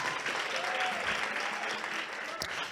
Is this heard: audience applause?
yes